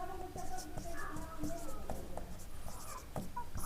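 Chalk or marker strokes on a board during a Hindi-language physics lesson on capacitors, a run of short scratchy taps and scrapes under a teacher's nearby talking.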